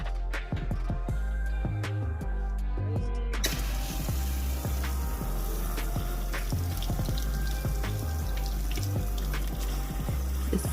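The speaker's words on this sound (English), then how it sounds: "So the water is going to be suctioned through here," Water gurgles and splashes through a portable shampoo bowl with no plumbing, its suction pump humming steadily underneath, while scattered drips and splashes stand out near and clear and no one speaks.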